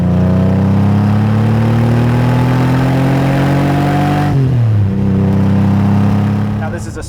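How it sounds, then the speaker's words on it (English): 1985 Lamborghini Countach 5000S with a V12 engine, loud and close, droning as it slowly climbs in revs, then dropping sharply and settling into a lower, steady hum. "let's not forget that V12 singing behind you, making over 400 horsepower."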